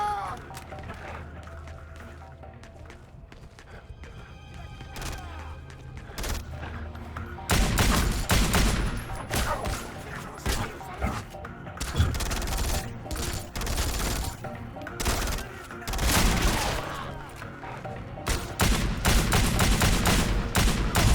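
Bursts of gunfire and rapid automatic shooting from the 2009 Xbox 360 video game Wanted: Weapons of Fate come in heavy, repeated volleys that grow denser and louder partway through, with brief quieter gaps between.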